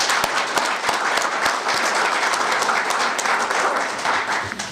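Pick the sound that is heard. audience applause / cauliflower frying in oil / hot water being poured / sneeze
audience applause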